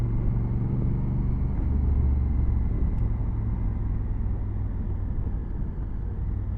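A brand-new Honda CRF1000 Africa Twin with the DCT automatic gearbox rides along, its engine and road noise forming a steady, loud low drone that stays even for the whole stretch with no voices.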